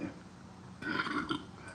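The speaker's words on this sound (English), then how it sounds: "burp." A single human burp rises briefly in the middle, close and fairly loud against a quiet room background.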